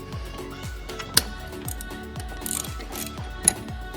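A ratcheting wrench turns one of the 13mm bolts holding down the AC compressor on a BMW E90 N54. It gives a steady run of close, crisp clicks in short repeated strokes, with a few louder knocks between them.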